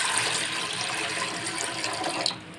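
Water poured steadily into an idli steamer pot, a continuous close splashing gush that carries on without a break and eases slightly near the end.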